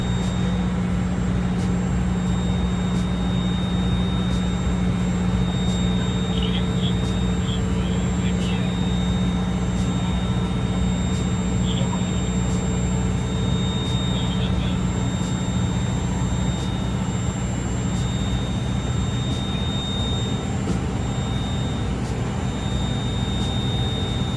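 An aircraft PDOT unit running steadily, a loud constant mechanical drone with a sustained low hum and a high whine, continuous and unchanging for the whole stretch, heard up close.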